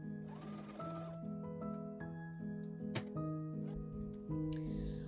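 A sewing machine stitches the shoulder of a dress sleeve, a quiet, steady motor hum with shifting pitch steps and a few small clicks, heard alone and close.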